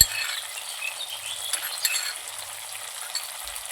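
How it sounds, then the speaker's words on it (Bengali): Green chili, cumin and ginger pastes fry in a pan while being cooked down for a pumpkin greens dish, giving a soft, steady sizzle with occasional light clinks of a utensil against the pan. "মশলা কিছুক্ষণ কষিয়ে নিয়েছি"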